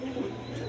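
A pair of racer pigeons gives a brief, low cooing murmur, soft and steady throughout.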